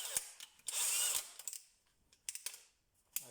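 A DeWalt DCD996N 18V cordless drill with a 10 mm bit bores into wood: one short, loud whirring burst up close, followed by scattered clicks and knocks from handling.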